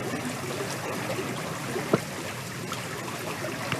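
Water from a waterfall flows steadily at its base during a forest bathing outing, a continuous broadband rush and trickle with a single brief splash or knock partway through.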